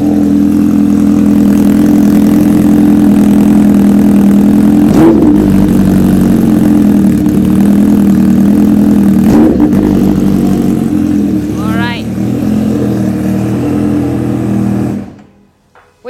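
A loud supercharged Kawasaki H2R motorcycle engine idles with a deep, throbbing rumble, blipped by two sharp revs and a rising whine before cutting off.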